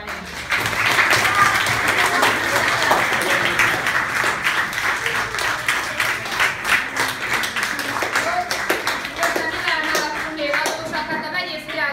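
An audience applauds Szabolcs after a chemistry demonstration with steady, dense clapping that keeps going for the whole stretch, with talking and children's voices mixed in.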